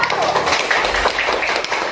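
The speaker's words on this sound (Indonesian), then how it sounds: "beri tepuk tangan ke kelompok 1" Schoolchildren clapping for group 1 in an elementary classroom, a dense, loud burst of many small hands close by, with a brief voice mixed in.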